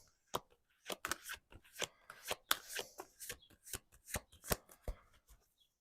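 Tarot cards being shuffled by hand, a rapid run of crisp riffling bursts and slaps repeating in an uneven rhythm, close and clear with no voices.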